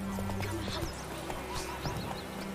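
Horse hooves clip-clopping in the video game Witcher 3, a quick run of hoofbeats with a whinny and steady game tones beneath, close and moderately loud.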